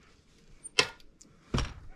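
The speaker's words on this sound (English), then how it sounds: "You can hear it deprime the case." A lever-operated reloading press deprimes and resizes a .44 Magnum case, giving two sharp clunks about three-quarters of a second apart against a quiet room.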